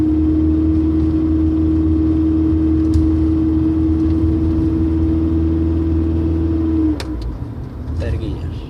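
A 1989 Honda Prelude Si engine hums steadily while driving in second gear with a transmission shifting fault, a constant mid-pitched drone that cuts off near the end with a few clicks.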